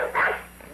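A big dog named Machine lets out a single short, fairly loud bark at a front door, followed by quiet.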